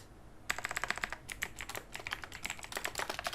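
Rapid bursts of typing on a computer keyboard, crisp close key clicks in quick uneven runs with a brief pause, alone without talk.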